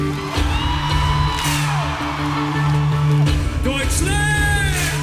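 Concert crowd at a show in Dortmund screaming and cheering in a dense, continuous roar, with whoops and tonal shouts rising over it, loud and sustained throughout.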